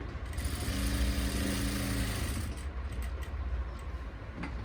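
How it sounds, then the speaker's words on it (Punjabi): Sewing machine stitching the hem of a salwar: a close, steady mechanical whirring hum for a couple of seconds that then slows and eases off, with no talking. "ਹੁਣੇ ਆਪਾਂ ਤੁਹਾਨੂੰ ਸਲਾਈਆਂ ਲਗਾ ਕੇ ਦਿਖਾਉਨੇ ਆ"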